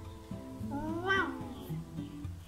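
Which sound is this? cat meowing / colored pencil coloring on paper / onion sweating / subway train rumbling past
cat meowing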